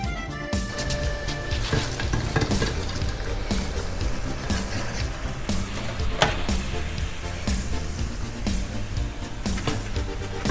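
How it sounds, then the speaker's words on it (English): Potato slices fry in hot oil over medium heat, a loud continuous sizzle and crackle with scattered pops and bursts, close up and without voices. "Fry all potato slices for 8 minutes over medium heat"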